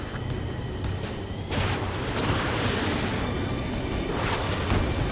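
An explosion from a destroyed target in the combat flight game Ace Combat 7, a loud rumbling blast that swells and rolls on for several seconds under steady engine-like noise.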